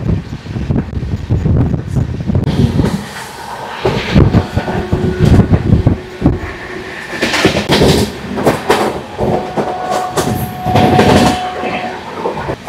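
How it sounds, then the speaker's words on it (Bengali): Passenger train running through hilly country toward Koraput, Odisha, with loud rhythmic clickety-clack of wheels over rail joints, rumbling carriage noise and gusty wind buffeting the microphone. "এবার আমাদের ট্রেন প্রবেশ করছে ওড়িশা"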